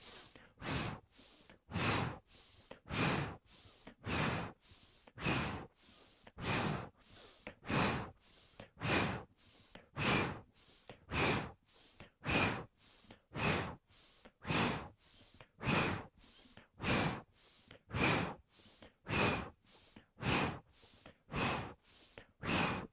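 Steady, rhythmic breathing during a vinyasa yoga flow with spinal twists: about thirty breaths, each rising into a strong hissing exhale in even succession, close to the listener with no talk.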